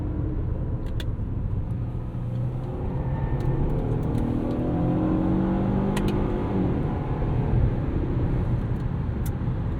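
A 2016 Ford Taurus SHO sedan accelerates steadily, its engine rumbling low and building through the gears, heard from inside the cabin as a continuous drone with road noise and no talking.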